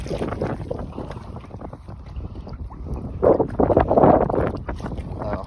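Waves capping over the top of a kayak on open water while catfishing in Oklahoma, a rough wash of splashing and wind buffeting the microphone, swelling louder partway through.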